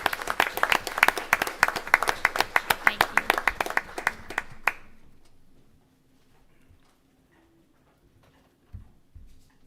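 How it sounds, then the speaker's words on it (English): Applause from a school board meeting audience, a burst of close, distinct claps lasting about five seconds before stopping abruptly, followed by a quiet room with faint shuffling. "give him another round of applause"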